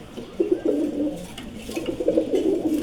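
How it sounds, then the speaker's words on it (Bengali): Male pigeons of several breeds coo in a loft, a few close, soft throaty rolling calls overlapping in steady repeated phrases. "এখানে সবগুলোই নর কবুতর রাখছি এখানে প্রায় সাত জাতের কবুতর আছে"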